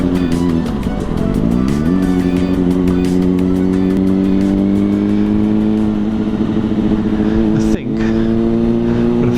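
A Yamaha Fazer FZ6 motorcycle is ridden on the road, its engine a loud, close, sustained drone that rises in pitch as it accelerates, with wind rush and a brief dip near the end.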